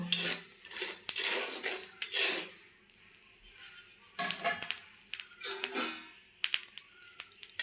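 Fried peanuts scooped out of hot oil with a slotted ladle, metal scraping and clinking against the pan in several short bursts with quieter gaps between, close and fairly loud, no talking.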